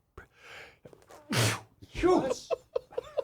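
A sharp, loud sneeze bursts out close by, preceded by a quick intake of breath and followed by a few murmured words.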